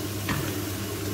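Sliced zucchini sweating in a pan after being salted and peppered, a soft, steady sizzle heard up close with one brief stirring scrape partway through and no speech.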